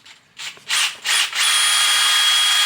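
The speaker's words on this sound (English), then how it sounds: "Let me get this drilled" A power drill makes a few short bursts, then runs steadily, whining close by during a dump valve install on an S550 single-turbo Coyote engine.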